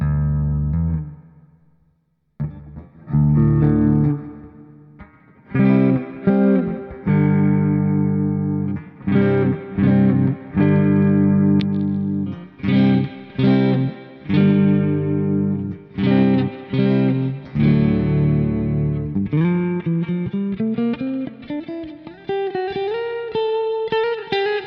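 An electric guitar plays through a DV Mark DV 50 M, a small 50-watt solid-state amp head, with reverb dialed in. Distorted chords and notes ring out, each hit trailing off in a lingering wash before the next, ending on a sustained rising phrase.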